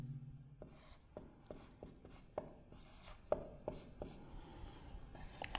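Chalk or marker taps and scratches across a board while a trigonometry problem is written out, a quiet series of sharp irregular strokes close by, with no talk.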